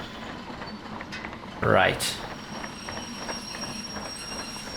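A train runs on rails in the video game Derail Valley, a steady rolling rumble with wheel noise and a brief louder squeal, while someone talks over it.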